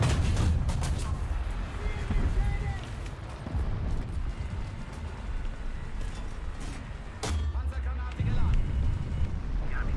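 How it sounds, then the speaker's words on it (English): A bomb blast in the War Thunder combat game, a deep, loud rumbling boom that swells and rolls on, with a second heavy thud near the end under scattered other battle noise. "That's a pretty solid bomb."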